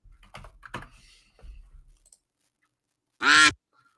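A duck quacking sound effect plays as one short, loud burst near the end, following a stretch of soft keyboard typing.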